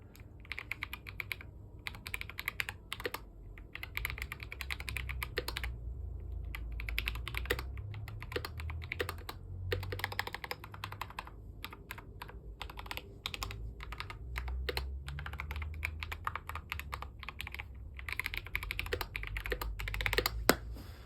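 Rapid typing on an Aigo A100 mechanical keyboard with yellow switches, quick clacky keystrokes in bursts with brief pauses, close up and fairly quiet.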